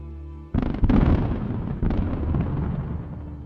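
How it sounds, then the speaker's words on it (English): A Russian convoy combat vehicle struck by a HIMARS missile explodes: a sudden loud blast followed by a second heavy burst, then sustained rumbling and crackling as the vehicle detonates and burns, with no voices. "The vehicle begins to detonate and burn fiercely."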